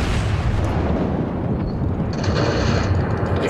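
Naval artillery in World of Warships rumbles as a steady, dense barrage of heavy booming gunfire, loud and continuous throughout with no talk.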